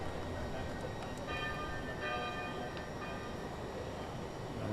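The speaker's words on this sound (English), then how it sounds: "They're ringing the bells." Church bells ringing at the Santa Casa sanctuary dedicated to the Nativity of the Virgin during a cycling race, several repeated tonal strikes carrying over steady crowd and broadcast noise.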